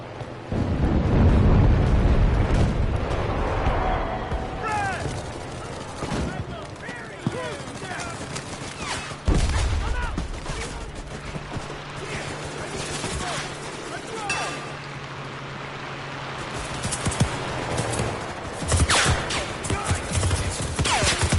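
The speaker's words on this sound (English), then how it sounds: "Definitely some heavy fire coming in here." Heavy video game gunfire and explosions in Enlisted: a loud blast early on, then a dense ongoing mix of shots and rumbling booms with scattered sharp cracks, some near and some farther off, with voices talking over the fighting.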